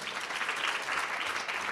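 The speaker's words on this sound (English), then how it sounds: "So let's give a round of applause for that." An audience at an Explorers Club event on women in exploration gives a round of applause, a short burst of dense steady clapping heard from within the room.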